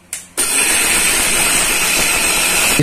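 An electric grinder starts with a short burst and then whirs loudly and steadily as it grinds sesame, okra seeds and black pepper. A continuous high-pitched motor whine sits close, with no voices.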